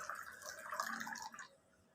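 Water trickles and drips through the holes of a brass oil lamp, a faint, close, watery patter that fades to quiet after about a second and a half.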